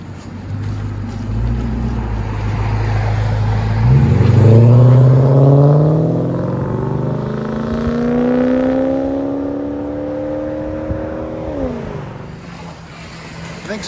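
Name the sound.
Lexus SC 400 4.0L V8 exhaust revving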